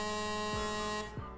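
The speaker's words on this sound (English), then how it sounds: "The Tiki Bar Boat does also have a horn that sounds like this." A ship horn from the Tiki Bar Boat in the Dynamic Ship Simulator III video game gives one sustained, steady, harmonic-rich blast of just over a second that holds level and then cuts off.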